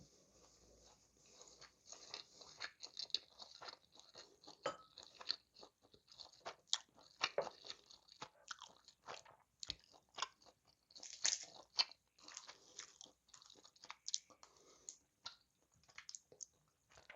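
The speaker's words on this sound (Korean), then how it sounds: "김에다가 밥을 싸가지고 먹겠습니다" Someone eating rice wrapped in dried seaweed (gim), close-up crisp crunching and chewing bites in an irregular rhythm, quiet and intimate, without talking.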